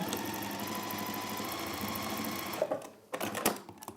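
A sewing machine runs steadily, stitching darts on a fabric pouch, with a continuous rapid whirring motor that stops abruptly, followed by a few handling clicks and knocks.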